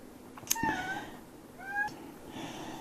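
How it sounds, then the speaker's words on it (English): A cat gives a few short chirping meows while stalking flies indoors, close and fairly quiet, with two brief calls and a small tap against a soft background hiss. "My cat is hunting flies."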